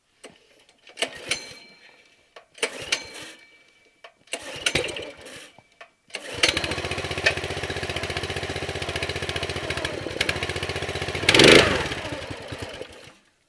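A Yardmax 35-ton log splitter's gas engine is pulled several times with sputtering false starts, then catches and runs steadily with a brief rev surge near the end; no talking.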